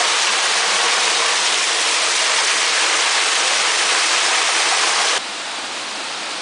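A waterfall pours steadily over rocks into a clear pool at Gürede, a loud, constant roaring rush of water close by, dropping slightly in level near the end.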